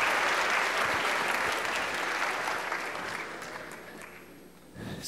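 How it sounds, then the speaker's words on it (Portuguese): An audience at a corporate culture presentation gives a dense, sustained round of applause that gradually dies down before a brief small swell near the end. "Uma salva de palmas a todos."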